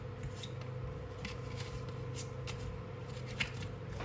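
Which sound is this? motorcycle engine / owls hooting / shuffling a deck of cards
shuffling a deck of cards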